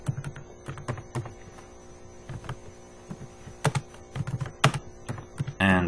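Rapid clacking keystrokes on a computer keyboard while C++ code is being typed, uneven bursts of clicks over a low steady hum, close and fairly quiet.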